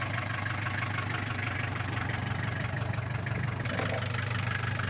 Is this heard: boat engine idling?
yes